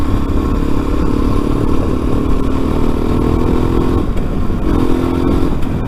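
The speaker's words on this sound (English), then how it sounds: "when I'm slowing down, it, like, clicks in the front" A motorcycle engine idles and rumbles steadily up close, with a faint rattling, clicking texture from the front end running under the engine noise throughout.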